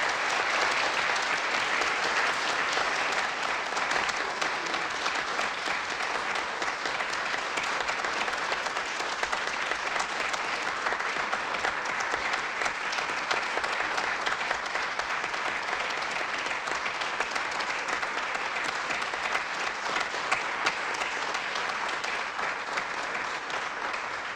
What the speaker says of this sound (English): Another round of applause for our Nobel Prize winner.